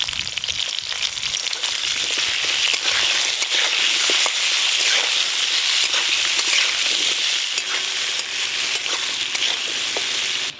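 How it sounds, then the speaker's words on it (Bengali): Potatoes and eggplant frying lightly in hot oil for a fish curry, a steady, dense sizzle with crackling pops running unbroken and fairly loud throughout, with no voices. "মাছের ঝোলের জন্য আলু আর বেগুন হালকা করে ভেজে নেব"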